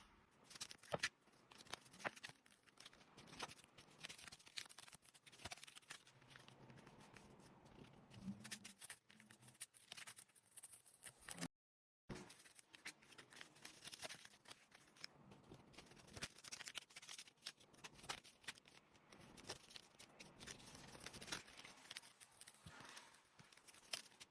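Tarot cards being shuffled and drawn from the deck, heard as a quiet, close, continuous run of crisp papery riffles, flicks and taps with a brief break partway through, and no voice.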